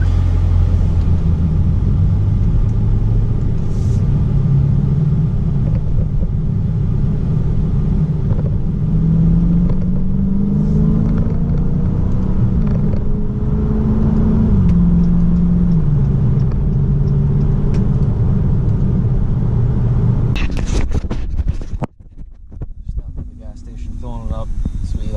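Dodge Challenger R/T 392 Scat Pack exhaust, a deep, loud V8 rumble that holds steady and rises through a couple of revs, then cuts off abruptly near the end into quieter rustling.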